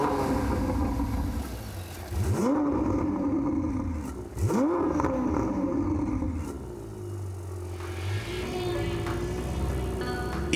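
A Ferrari 488 Spider's 3.9-liter V8 engine revs hard twice, roaring up in pitch, then settles into a deep idle and a lighter hum, loud and close.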